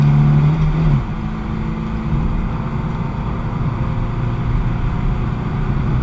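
A Ford Capri Mk1 1300L pulls hard along an expressway, its engine drone loud and close inside the cabin, the pitch dropping at a gear change before a steady, rumbling pull continues without talk.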